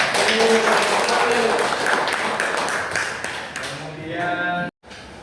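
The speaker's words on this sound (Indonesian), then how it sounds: "Beri tepuk tangan dong." A class group in a small-group teaching session applauds with steady, dense clapping that fills the room, with voices mixed in, before it cuts off abruptly.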